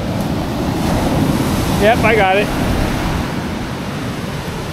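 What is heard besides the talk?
ocean waves breaking on a beach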